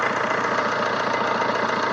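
A 2009 Fiat Linea's engine idles steadily up close, a continuous mid-range hum with a faint rhythmic knock and no voices over it.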